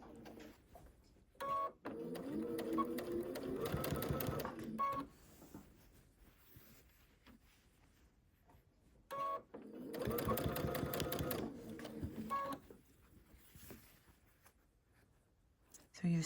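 A sewing machine stitches a Dresden quilt tree skirt in two short bursts of rapid needle clatter a few seconds apart, close and fairly loud, with quiet pauses and small handling noises between them.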